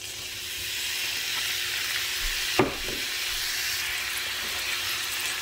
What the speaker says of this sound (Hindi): प्याजों को हमने फ्राई करना है।